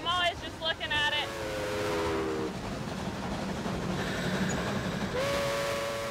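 Narrow-gauge train leaving Durango through the San Juan Mountains forest: a steam whistle blows in stacked tones over steady rolling rumble, sounding again near the end, with a voice talking briefly at the start.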